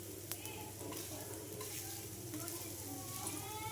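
Pesarattu, a green gram dosa, sizzles steadily on a hot pan, a close, continuous crackling hiss that runs unbroken throughout with a few faint scrapes over it.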